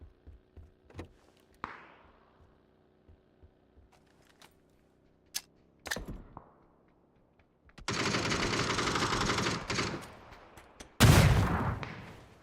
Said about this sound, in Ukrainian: По ним, по ним стріляють.